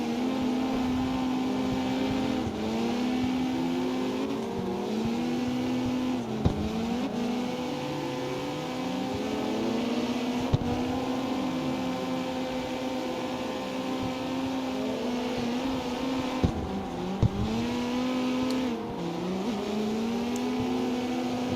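A car engine in the CarX Street racing game drones steadily at high revs, pitch rising and dipping through gear shifts, with a few faint clicks and no talk.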